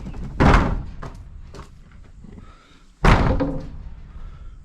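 A door slams shut twice, a loud close impact followed a few seconds later by a second equally heavy bang, with quieter knocks and rustling in between.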